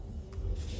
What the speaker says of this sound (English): To keep it lifted here, you just spray a little bit of this